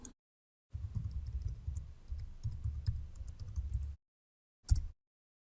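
Typing on a computer keyboard to log in, a quick run of soft close keystrokes lasting about three seconds, followed after a pause by one more brief click.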